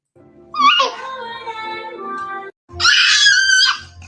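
A 5-month-old baby boy screams in loud, sustained bursts, first a long wailing cry and then, after a brief pause, a second harsh shriek, heard through a replayed clip.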